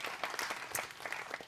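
An audience at a French-language stand-up comedy show applauds in a short, fairly faint burst of scattered hand claps, with a few sharper individual claps standing out.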